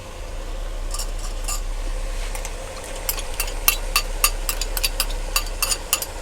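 A metal spoon stirs and scrapes yogurt into fried mutton masala in a cooking pot, making repeated clinks and scrapes that grow more frequent toward the end over a steady low hum and faint sizzle.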